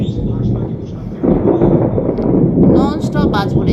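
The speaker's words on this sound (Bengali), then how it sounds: "নন স্টপ বাজ পড়ে যাচ্ছে," Thunder rolls in a dry storm without rain, a loud, close, deep rumble that swells twice and blends with gusty wind buffeting the microphone.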